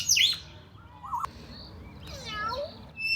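A parrot perched on a branch mimics a cat, giving a few meow-like calls with bird chirps and tweets mixed in, fairly close and alone with no speech.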